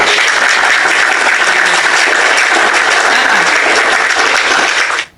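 Dense, loud applause from a played recording, continuous and even throughout before cutting off abruptly at the end.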